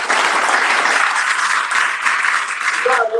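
An audience at a parents' education seminar claps steadily and fairly loudly in a dense, continuous burst. A voice comes in near the end as the clapping goes on.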